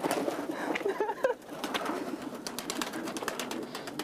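Pigeons are released and fly off during an outdoor event, with a burst of fluttering wings and soft bird sounds over a noisy, cheering crowd.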